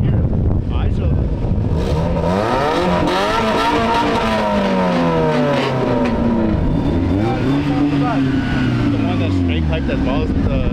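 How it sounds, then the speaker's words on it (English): Mazda Miata exhaust revving at an outdoor summer car show, engine note rising and falling through several loud sweeping revs over about ten seconds, close by, with people talking faintly around it. "We're just curious what all these Miatas sound like."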